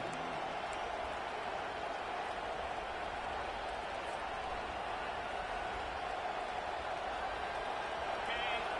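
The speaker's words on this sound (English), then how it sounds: "listen to this crowd coming through" Stadium crowd noise from a Madden football video game during an LSU college football broadcast, a dense, continuous roar filling the whole clip at steady loudness with a commentator talking over it.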